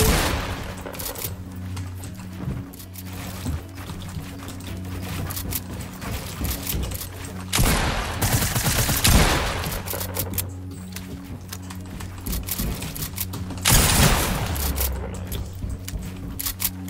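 Gunfire rings out in a Fortnite creative 1v1 match: steady rapid firing continues throughout, with a few louder, denser bursts standing out over the background game sound.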